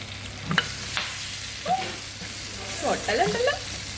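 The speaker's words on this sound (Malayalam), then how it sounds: "ഇനി നമ്മൾ തിരിച്ച് മറിച്ചു വിട്ട് ഫ്രൈ ആക്കി എടുക്കാം" Stuffed squid turning and frying in a pan, with a steady low sizzle and a few soft scraping clicks as the pieces are flipped, close and moderately quiet with no talk.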